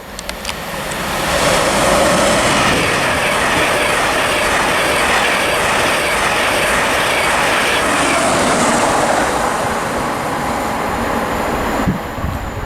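Passenger train on the East Coast Main Line running through Grantham station, a steady loud rumble of wheels and rail clatter that swells and holds for several seconds with some wheel squeal, no talk.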